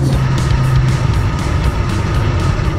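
A car driving at around 160 km/h on bare wheel rims with no tyres fitted, giving a loud, steady broadband roar with a low droning tone throughout, close and continuous, with no talk.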